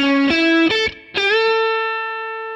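Electric guitar plays a quick four-note blues lick with a bright, chorused tone, finishing on a bent note left to ring and fade.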